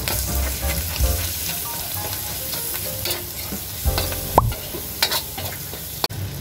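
Bacon frying in a pan with Star Margarine gives a loud, steady sizzle with crackling pops and a few utensil scrapes, and no voices.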